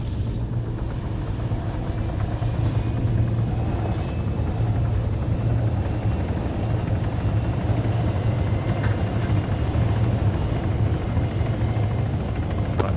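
Continuous helicopter rotor and engine drone from the Arma 3 video game, a steady loud rumble with a faint high whine, holding unbroken throughout with no talk over it.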